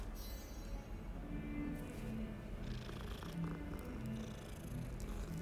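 A cat purring in Hogwarts Legacy, a steady low rumble running the full length at moderate level over soft game ambience, with no talk.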